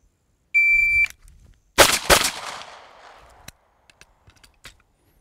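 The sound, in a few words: pistol shots fired at targets with shot timer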